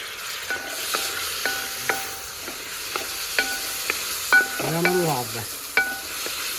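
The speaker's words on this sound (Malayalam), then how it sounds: "നമുക്ക് തക്കാളി ഇട്ട് കൊടുക്കാം അഞ്ചാറ് തക്കാളി ആയിരിക്കും" Tomatoes frying with onions and green chillies for an Aluva-style fish curry, a soft sizzle under repeated sharp clinks of a spoon stirring against the pan, with no voices.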